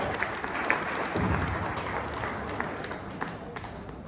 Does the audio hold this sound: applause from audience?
yes